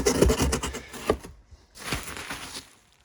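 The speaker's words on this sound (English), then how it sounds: "Let's cut this box open." A knife slicing open a cardboard box of VW Beetle parts, with close rasping, tearing strokes, a pause of near silence, then another longer scraping cut that fades out, no talk.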